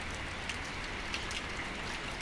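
Rain falls on the village of Moti Jagdhar in a soft, steady patter, faint and even, with a few slightly sharper drops standing out.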